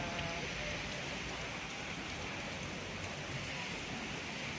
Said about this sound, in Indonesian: suasananya di taman juga hujan deras, nggak ada orang, sepi